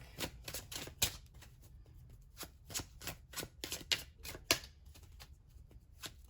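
Tarot cards being shuffled by hand, close and crisp, in a quick series of papery riffles and slaps with short pauses between bursts and no talking.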